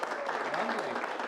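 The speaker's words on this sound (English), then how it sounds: "By a round of applause, who has been to Showdown before?" Audience applause fills a room at an improvisational comedy show, a steady dense wash of clapping from a live crowd, lasting a little over a second with voices mixed in.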